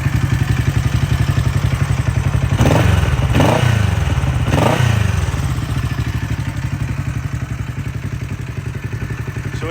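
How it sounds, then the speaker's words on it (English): A Honda CB450 K1 two-cylinder motorcycle with a black bomber engine idles with a steady, loud throbbing pulse, punctuated by three heavier revs or thumps near the middle before settling back. "The bike looks very cool with the drum brake and the two-cylinder sound."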